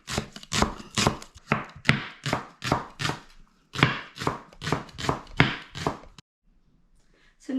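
Onions and white parts of leeks chopped with a knife on a board: a steady run of sharp, close cutting strokes in quick rhythmic bursts, a brief pause midway, then silence near the end.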